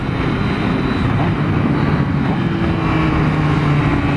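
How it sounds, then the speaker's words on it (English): A Triumph Speed Triple engine rumbles steadily through an Arrow 3:1 full-system exhaust, a loud, continuous low drone with wind noise, no talking. "that camera on the exhaust pipe is picking up some of this beautiful music that the pipe's making"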